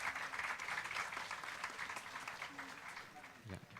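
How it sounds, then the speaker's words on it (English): Audience at a food science conference's valedictory function applauds steadily as participants come forward one by one, a continuous patter of clapping, fairly quiet and distant, with faint voices under it. "A big round of applause for them."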